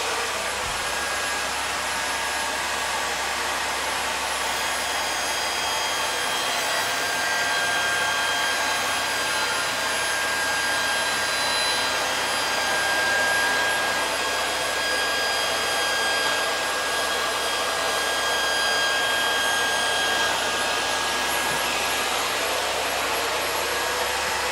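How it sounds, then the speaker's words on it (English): A dust extractor runs in a workshop, a loud steady whooshing roar of rushing air with a faint high whine, continuous and close with no voices. "The dust extractor is running."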